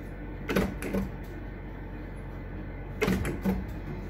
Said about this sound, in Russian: Запускаем жетончик.